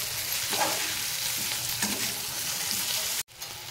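Tomato and onion with chilli and curry leaves fry in a pan for prawn masala, giving a steady close sizzle with occasional stirring scrapes before a brief cut-off near the end.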